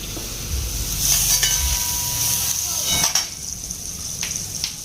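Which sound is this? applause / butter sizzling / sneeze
butter sizzling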